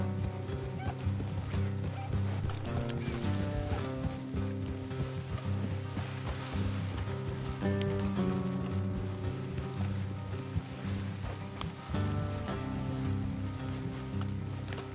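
Horse hooves clop steadily in Red Dead Redemption 2 beneath a dense layer of music and ambient noise, a galloping rhythm that stays fairly even throughout.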